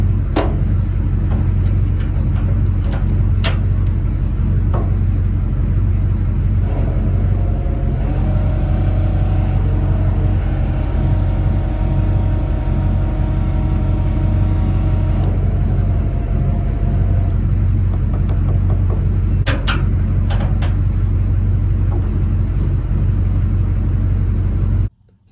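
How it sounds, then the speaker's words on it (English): A small electric diesel transfer pump on a budget DIY transfer tank runs steadily, giving a continuous motor hum and rumble that holds an even level for the whole stretch. "it kicks the pump on if I have the switch on"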